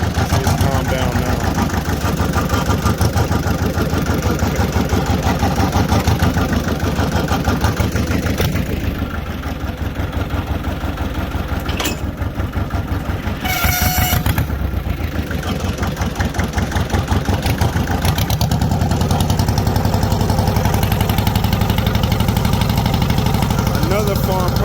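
A 1970s farm tractor engine idles close by with a steady low rumbling chug that dips slightly midway before returning, continuous throughout.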